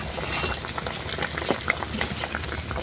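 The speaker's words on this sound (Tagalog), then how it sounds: "Ayan, kumukulo na." Steady bubbling and hissing of water at a rolling boil, close by, with small pops and splutters throughout and no voices.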